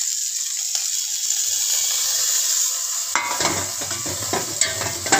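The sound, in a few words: frying tomato, capsicum, chilli, garlic and ginger pastes in pan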